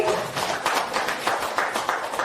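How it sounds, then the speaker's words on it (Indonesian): An audience applauds at a school teachers' session after a presentation, steady dense clapping filling the room throughout, fairly close and even in loudness with no voices above it. "Boleh Bapak Ibu kita berikan tepuk tangan sekali lagi"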